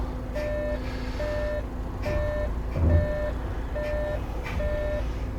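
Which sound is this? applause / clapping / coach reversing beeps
coach reversing beeps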